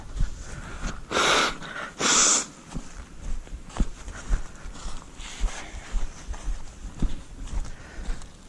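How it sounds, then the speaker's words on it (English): Person blowing their nose outdoors on a hiking trail, two loud forceful nasal blasts close by, followed by quieter sniffs and rustling. "now I'm gonna blow my nose real quick"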